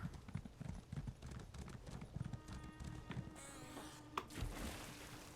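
Horse hooves clip-clop in a steady, brisk rhythm in Elder Scrolls Online, fairly close, then give way to other game sounds near the end.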